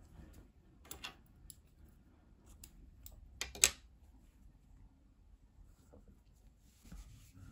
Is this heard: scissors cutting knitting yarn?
yes